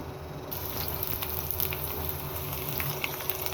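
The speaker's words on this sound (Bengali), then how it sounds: "রসুন কুচিটাকে আমি ব্রাউন কালার করে ভেজে নিব।" Minced garlic frying in hot oil with a little dried chili, a steady close crackling sizzle with fine pops running throughout, no voices.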